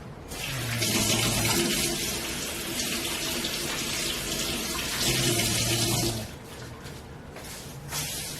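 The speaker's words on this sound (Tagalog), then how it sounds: "I'll wash my hands first." Tap water runs steadily into a sink as hands are washed while making pandesal dough, a broad continuous splash with a brief lull and a second surge before it stops.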